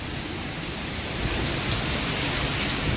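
Heavy rain pours down during a windy storm, making a dense, steady roar of spattering water that stays loud and continuous, with no voices.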